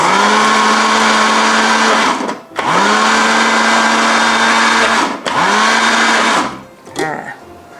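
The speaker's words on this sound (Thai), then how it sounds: "เป็นเต้าหู้ยี้สีแดงใส่ลงไปค่ะ ปั่นให้เข้ากับพริกนะคะ" An electric blender purees red fermented tofu with chillies in three loud, steady motor bursts, separated by short pauses, before winding down near the end.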